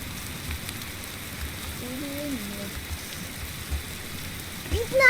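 Rain in the video game 99 Nights in the Forest, a soft steady patter running throughout, with a couple of brief tonal game sounds and a small bump near the end.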